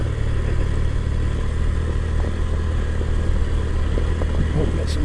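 A Kawasaki KLX 230 Sherpa S motorcycle runs steadily on a trail ride, its engine a constant loud drone with wind noise and no voices.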